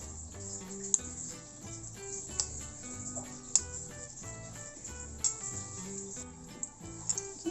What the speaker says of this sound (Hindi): ये देखिए व्यूअर्स, इनको हम फ्राई होने देंगे